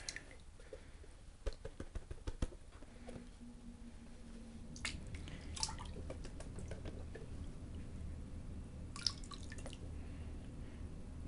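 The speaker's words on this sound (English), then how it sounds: "we're just going to wash those blonde sands away" Paydirt sand being washed in a gold pan underwater, with soft sloshing and swishing, scattered drips and splashes, and a few sharper clinks of grit against the pan.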